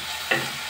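Tomato sautés on low flame in a pan for green peas rice, a steady gentle sizzle with one brief scrape of a stirring spoon.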